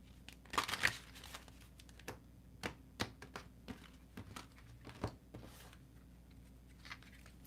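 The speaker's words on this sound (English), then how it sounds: "I'm going to bless and shuffle and set up a spread" Tarot cards being shuffled by hand: soft, faint papery riffles and crisp taps in irregular bursts, quiet and close, with no talking.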